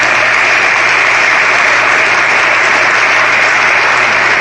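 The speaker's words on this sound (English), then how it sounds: "Let's give him a round of applause." At the Charles Young Buffalo Soldiers National Monument event, a crowd applauds for Senator Sherrod Brown with loud, continuous, dense clapping that holds steady throughout, no speech over it.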